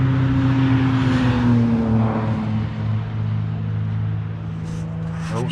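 Race cars, including Minis, BMWs and Renaults, roaring around Thruxton racetrack, heard from right beside the circuit: a loud, sustained engine drone whose pitch slides downward as cars pass, with no talk.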